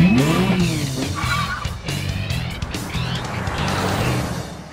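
A 2024 Mercedes-Maybach S680 with a V12 engine drives past with loud engine roar and tyre noise, over a few continuous seconds, with no one speaking.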